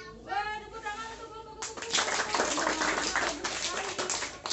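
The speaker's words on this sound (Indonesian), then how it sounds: "tepuk tangan untuk" A group of young preschool children in a circle-time activity bursts into clapping after a voice speaks alone at first. The claps come as a busy, uneven patter that carries through to the end.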